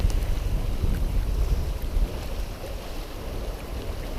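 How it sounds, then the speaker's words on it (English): Strong wind near 20 knots while sailing a sailboat at sea under a double-reefed main and jib, wing and wing, a steady loud rushing roar with buffeting gusts and sea noise, no voices. "Wind's getting close to 20."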